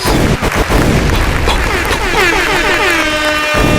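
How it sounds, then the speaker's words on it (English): A loud burst of air horn blasts mixed with gunshot and bomb-explosion sound effects, booming and overlapping, followed by a rising horn tone. "The I bombs like the and all that gunshots. The gunshots. Yeah. We got gunshots. That's a gunshot. That's a bomb."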